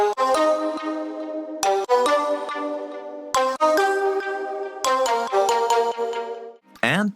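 Layered synth parts for a modern K-pop track, with a bright bell tone, chopped vocal snippets and a stabby brassy synth swelling in, struck in repeated phrases that ring and decay, with no voices over them.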